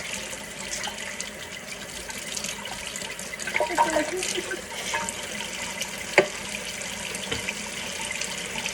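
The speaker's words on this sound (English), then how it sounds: "I just rinsed that down." A kitchen sink tap runs steadily while something is rinsed, a soft continuous water hiss with occasional clunks and splashes, one sharper knock partway through, and no talk.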